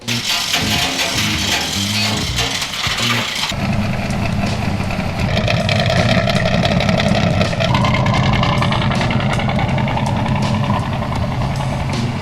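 A 1962 Chevy four-wheel-drive pickup with a newly installed engine that runs a little rough, rumbling loudly and steadily up close, its tone shifting partway through as the idle settles.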